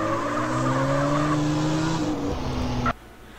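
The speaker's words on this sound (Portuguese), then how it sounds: "Então temos aqui áudios do áudio do Fiat Uno Mille aqui, que você pode até estar ouvindo, né, gravado diretamente do Fiat Uno" A Fiat Uno Mille's engine, recorded from the real car for a GTA San Andreas mod, drones at a steady high pitch with tire-squeal-like tones, then cuts off abruptly near the end.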